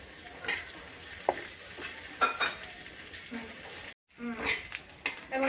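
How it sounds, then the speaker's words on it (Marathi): Onion dry-roasted until reddish in a pan, with repeated scraping stirs of a spoon and light sizzling, while someone talks over it in between. "तशाच प्रकारे आपण कांदा सुद्धा लाल भाजून घेणार आहे"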